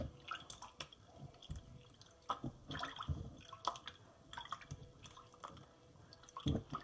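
Seitan dough is washed and kneaded by hand in a bowl of water, giving soft squelching, sloshing and dripping sounds in uneven bursts, close and fairly quiet.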